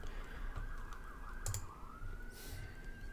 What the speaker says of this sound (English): I hear sirens out the window